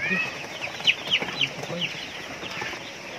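Newly delivered chicks chirp in high, short peeps, several overlapping calls close by, with faint voices in the background.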